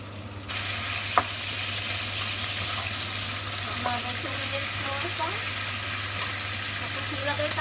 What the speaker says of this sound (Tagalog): ipapan-fry ko yung... bacon